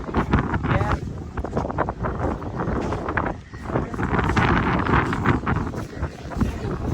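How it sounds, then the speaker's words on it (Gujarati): Steady wind rushing and buffeting across the microphone at Kankaria Lake, with light rain drops starting, loud and continuous with a brief lull midway, while voices talk underneath. "પવન આવે છે ઠંડક આમ થોડા છાંટા ચાલુ થઈ ગયા"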